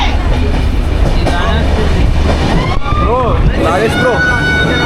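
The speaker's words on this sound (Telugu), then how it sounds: "ఎలా ఉంది ట్రైన్ జర్నీ?" A train runs loudly along the track on a journey to Araku, a dense continuous rumble and rattle with shrill wheel squeals, while people talk and shout inside the carriage.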